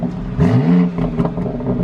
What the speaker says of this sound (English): it goes efficient, sport, sport plus, and then I open up the exhaust valves.